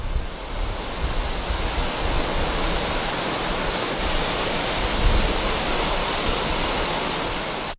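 Guryong Falls, a large waterfall in Korea's Geumgang Mountains, roars as a dense, steady wash of rushing water that holds constant and full throughout, with no voices.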